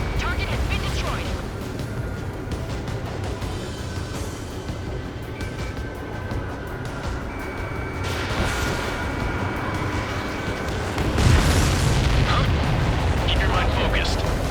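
Target explosions in the Ace Combat 7 video game, with booms rumbling under a continuous jet-engine roar and a louder, heavier burst swelling near the end.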